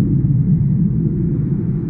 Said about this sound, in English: F-35, Lightning IIs out of RF Marham.